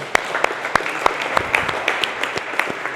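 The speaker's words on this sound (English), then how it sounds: "Clap it up for them, they did good" Workshop participants clap together in a small room, a brief burst of scattered, fairly loud handclaps with sharp individual strikes and no talking.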